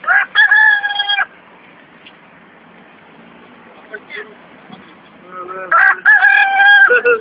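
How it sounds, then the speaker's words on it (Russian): A loud rooster-like crow from a crow, bursting out at close range, a quiet pause with faint rustling, then a second long crow. "Ворона, которая кукарекает."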